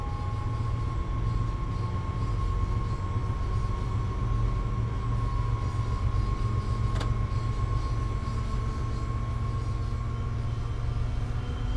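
An MBTA commuter train in Train Sim World 5 runs with a steady, loud low rumble and hum throughout, a constant engine drone with a faint high whine and a brief click midway.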